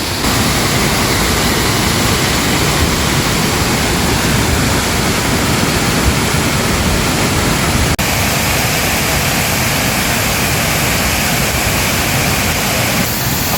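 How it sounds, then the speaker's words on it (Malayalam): Aruvikkal waterfall in Ranni, Kerala, roars as a dense, constant, loud rush of falling water that fills the whole scene steadily without pause. "അരുവിക്കൽ വാട്ടർഫോൾസിലാണ് ഞാനിപ്പോൾ നിൽക്കുന്നത്."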